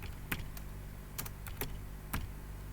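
Typing on a computer keyboard: a handful of sparse, crisp key clicks, some in quick pairs, heard close up over a steady low background hum.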